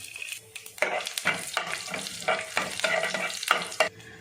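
Mustard seeds, cumin and dried chillies frying in oil for a palak dish, crackling sizzles punctuated by repeated stirring scrapes in an uneven rhythm, close and fairly loud.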